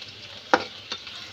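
Garlic, green chilli and onion fry in a pan, a soft steady sizzle with a single sharp scrape of a stirring utensil and a fainter second knock a moment later.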